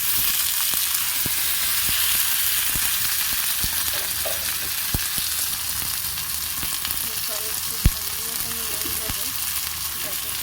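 Chopped tomatoes frying with browned onions in a pan, a steady loud sizzle with occasional stirring clicks, close and continuous throughout.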